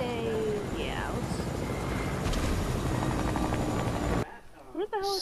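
Helicopter rotor drone in a video game, a steady broadband whir running loud under players' voices for about four seconds before dropping away, leaving brief speech at the end.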